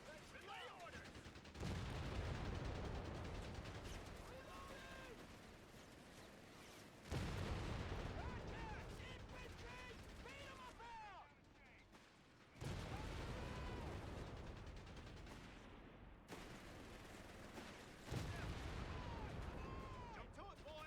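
Artillery fire in Company of Heroes 3 booms in bursts across a battlefield, heavy low rumbling blasts returning every few seconds, with scattered gunfire and voiced unit chatter over the din.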